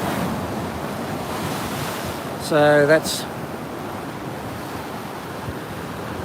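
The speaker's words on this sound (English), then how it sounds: "the waves are getting a bit bigger, so I won't go too close." Ocean waves surging and breaking against the rocks below the Fingal Headland cliffs, a constant roaring wash mixed with wind buffeting the microphone, with a short bit of speech partway through.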